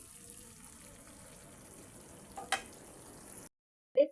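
Stuffed eggplant curry simmering in a covered pot on the stove gives a faint, steady sizzling hiss with a brief clink partway through, then drops to silence before a short clatter at the end.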